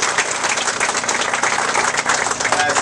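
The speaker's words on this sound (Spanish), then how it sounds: "recibamos con un fuerte aplauso" Dense, steady applause from a crowd fills the whole moment, loud and continuous with no pauses.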